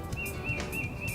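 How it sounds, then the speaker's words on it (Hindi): Small birds chirp in short, repeated high tweets, clear and fairly close, used as a springtime effect in a children's story with no speech. "चिड़िया चहचहा रही हैं।"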